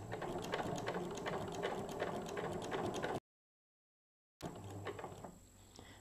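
A sewing machine stitches fabric for a wrist pin cushion in a rapid, even mechanical patter. It stops abruptly for about a second of silence, then resumes briefly before easing off.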